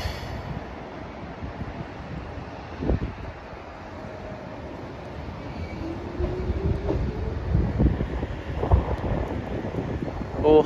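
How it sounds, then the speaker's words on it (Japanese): A Keihan electric train pulls out of a terminal station bound for Sakamoto-Hieizan-guchi, a low rumble of wheels and motor slowly building under wind noise, with faint tones and knocks rising toward the end. "おー、発車してた、発車してた。"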